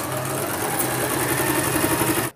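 Sewing machine running steadily while top stitching a boat neck blouse, a loud continuous whirring hum with fine rapid needle rhythm that cuts off abruptly at the end.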